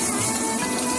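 Chicken sizzling steadily in a pan as it is braised for Bengali chicken kosha, a constant close crackle and hiss with no pauses.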